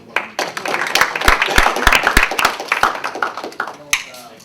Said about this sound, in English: So could y'all give him a round of applause?